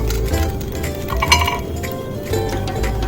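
Ground nuts fried in a microwave oven are stirred in a dish, producing light clinks and rattles of utensil on dish over a steady low hum.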